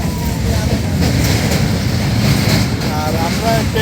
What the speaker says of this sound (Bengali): আর আমরা ট্রেনটা যাচ্ছে কি ব্রিজের ওপর দিয়ে?